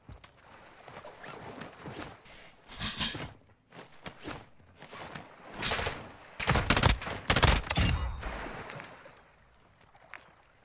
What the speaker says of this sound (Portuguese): Tô tomando tiro.